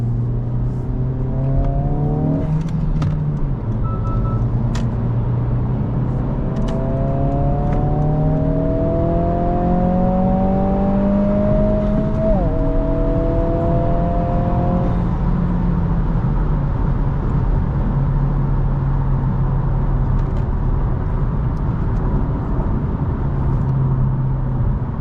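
A Honda Civic Si with a turbo engine revs while driving, its steady drone rising through climbing pitch sweeps before dropping back to a constant cruising hum, close and fairly loud throughout.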